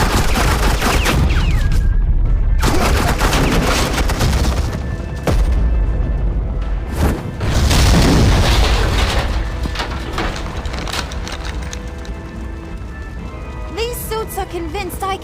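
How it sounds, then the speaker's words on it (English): Sustained bursts of automatic gunfire from a Batman Telltale game firefight, loud and dense with booming impacts throughout, mixed with game music and effects, with a voice speaking briefly over the din. "Suppressing fire."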